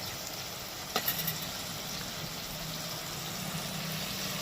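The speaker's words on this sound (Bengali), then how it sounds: "এবার এটাকে একটু ভালো করে ভেজে নেবো টমেটোটাকে একদম নরম হওয়া পর্যন্ত" Tomatoes fry in a pan with a steady, close sizzle and faint spitting, a few soft clinks of a utensil early on, with no voices.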